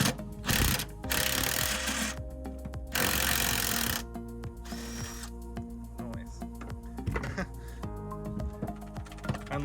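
A power tool working rusted bolts loose beneath a Mitsubishi Rosa bus, with loud whirring bursts starting and stopping, clanking metal in between, and a person speaking over the work.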